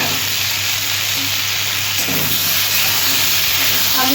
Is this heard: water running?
no